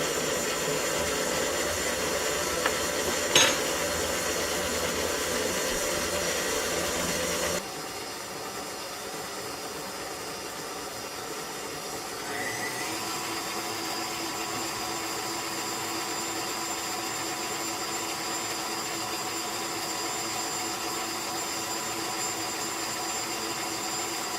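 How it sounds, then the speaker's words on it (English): A KitchenAid stand mixer runs continuously while mixing dough for garlic fingers, a steady motor whine and hum that shifts in pitch and level as the speed changes, with no talking. "Just going to haul that up and turn on the KitchenAid."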